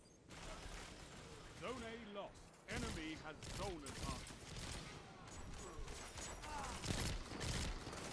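Pulse rifle fire in a video game raid, with bursts of rapid, punchy gunshots and mechanical clatter mixed with a person talking over the action.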